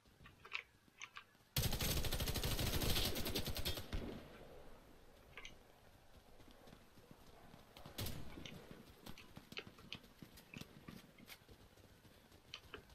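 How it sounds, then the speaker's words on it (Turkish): Warface, a first-person shooter, lets rip a burst of rapid automatic gunfire for about two seconds, loud and dense, followed by scattered single shots, clicks and footsteps quieter in the background. "Vur vur cesedine vur belki ölmemiştir."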